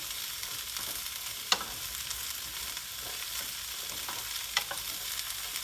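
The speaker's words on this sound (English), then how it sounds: "we're going to just saute this for a couple of minutes just to soften it up and get it coated with the oil" Bok choy stems and sliced shiitake mushrooms saute in oil with a bright, even hiss. Two crisp clicks of a spoon sound over it. The pan is close and steady throughout, with no voices.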